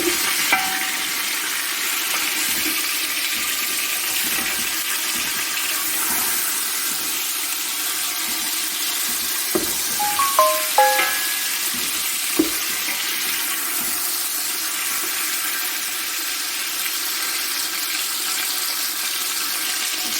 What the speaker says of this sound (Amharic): ከዛ ይሄን እንደዚህ ጥብስ እናደርጋለን